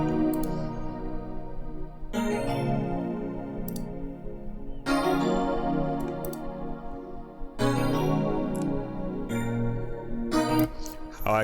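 FM Tons Crystal EP electric piano patch from Falcon plays sustained bell-like chords in an R&B progression, each chord ringing for a couple of seconds before the next change, bright and clean with no talk over it.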